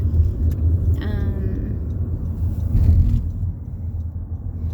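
Steady low rumble of a car driving on a road near the Houston skyline, heard from inside the cabin, with a faint voice briefly speaking over it.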